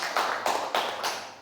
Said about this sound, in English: Yes, you should clap.